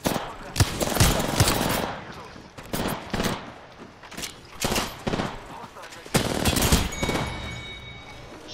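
Rapid R-99 submachine gun bursts during an Apex Legends match, repeated crackling volleys at varying distance mixed with game effects, with people talking over the gunfire.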